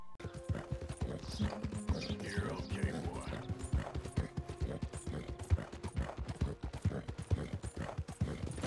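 Hooves of an injured horse clip-clop in a video game, a steady stream of close, loud footfalls that runs throughout, with brief creaking and quiet background sounds alongside.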